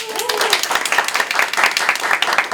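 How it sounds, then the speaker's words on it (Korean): Loud, close audience applause fills a small indoor meeting room as a youth network discussion session with artists begins, brisk continuous clapping from a modest group with a brief voice at the start. "간담회를 저희 큰 박수로 시작하도록 하겠습니다."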